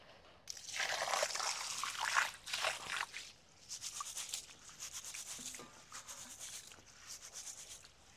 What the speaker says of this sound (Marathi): परत 1-2 पाण्याने स्वच्छ धुवून घेऊ,